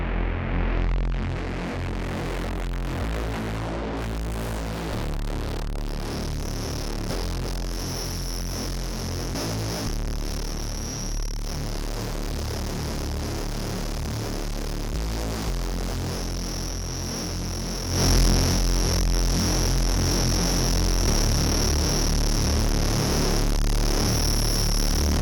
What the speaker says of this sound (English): So you can get some really cool distortion effects using this module.